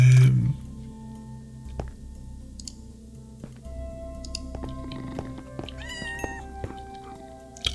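Several Minecraft cats meow in short, high-pitched, close calls, with a few soft clicks and game ambience between them and no talking.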